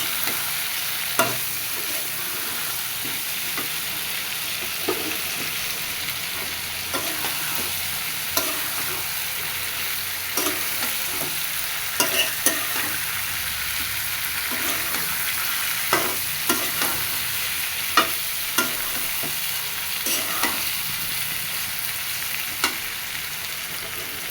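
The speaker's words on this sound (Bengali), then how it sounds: "ভেজে রাখা সকল সবজিগুলো দিয়ে ভালো মতো আবার কষাই নেব" Fried vegetables tossed with rohu fish head in a pan, a continuous loud sizzle broken by regular clicks and scrapes of the spatula, close and alone without voices.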